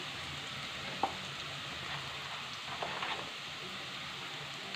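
Potatoes and eggplant frying in oil in a pan, a steady soft sizzle with a few small pops and stirring clicks, close and even throughout.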